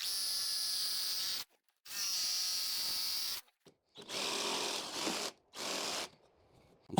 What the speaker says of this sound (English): I'm just using a 1/4 inch brad point bit.